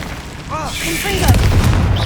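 Confringo blasting spell going off in Hogwarts Legacy, a rumbling booming explosion that swells and lingers for about a second, mixed with game voices and combat sounds.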